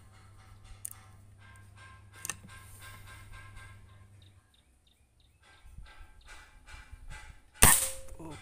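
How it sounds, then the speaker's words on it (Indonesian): An air rifle fires a single sharp pellet shot during a grouping test, a loud crack near the end, with a few fainter clicks and handling sounds before it. "Oke, tembakan keempat."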